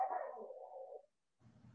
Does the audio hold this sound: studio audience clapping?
no